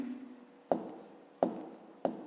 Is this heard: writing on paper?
yes